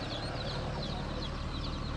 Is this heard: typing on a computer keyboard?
no